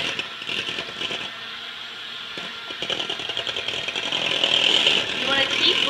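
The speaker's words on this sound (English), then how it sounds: "You want to keep blending until the mixture is well blended and smooth." Electric mixer blending asparagus tomato quiche mixture in a bowl, a steady whirring buzz that grows slightly louder, with a voice talking over it.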